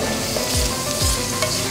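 Garlic frying lightly in a pan for black chickpea chaat, a steady soft sizzle with a few low stirring scrapes, close and continuous with no talking.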